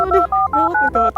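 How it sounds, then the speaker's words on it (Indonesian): A rapid run of telephone dialing tones, about six short beeps in quick succession, close and clear with no talking. "Telepon."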